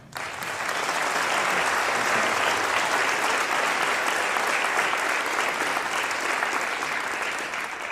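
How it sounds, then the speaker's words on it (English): A room full of people at a school band concert claps steadily for several seconds, a dense, even wash of applause that swells quickly and holds without pause. "You may clap for each one."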